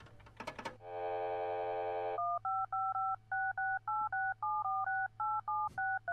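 Payphone dialing in the video game Serious Sam: a few clicks, a steady dial tone, then a rapid series of about a dozen touch-tone beeps, quiet and clear with a low hum underneath.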